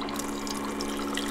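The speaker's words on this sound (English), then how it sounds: "This is a hot water machine I use." A hot water machine pours a steady stream into a mug fitted with a tea infuser holding loose-leaf green tea, a continuous close splashing fill with no talking.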